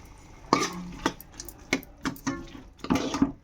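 A spoon scrapes and knocks through cauliflower tomato curry with masala in a pan, making a series of irregular clinks and scrapes over a faint sizzle, close and fairly quiet.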